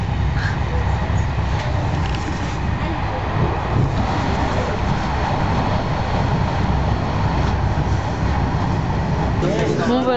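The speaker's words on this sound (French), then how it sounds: "on est dans le métro" A Paris metro train rumbles and rattles steadily up close for the whole stretch, a dense continuous roar of wheels and carriage noise with no talk.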